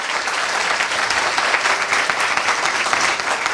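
A church congregation claps together during a sermon, a dense, steady burst of applause filling the room for a few seconds without speech.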